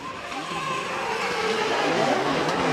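Drift cars battle in tandem at a Formula Drift Japan round, a BMW with a 2JZ against a car with a VR engine, their engines roaring continuously with a broadband, tyre-smoke hiss, heard at a distance.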